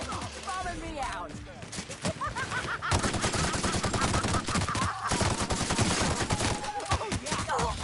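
Weapons fire in The Outer Worlds, Murder on Eridanos DLC, comes as dense, rapid bursts of shots, loud and close, rattling nearly continuously with busy game sounds mixed in.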